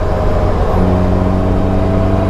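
A loud, steady engine roar of a Caterham 7 360R with a sustained high whine, close up and continuous, holding at high revs near 8,000 RPM throughout.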